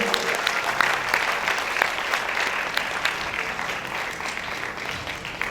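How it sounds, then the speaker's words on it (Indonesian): A theatre audience at a women's theatre festival in West Nusa Tenggara claps in a dense, sustained ovation after the show, steady and fairly loud throughout. "Tepuk tangan yang meriah untuk bengkel aktor Mataram."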